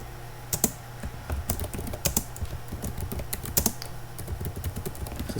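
Computer keyboard typing while a network automation playbook is written, steady irregular keystrokes with a few louder clustered taps, close and alone with no talk.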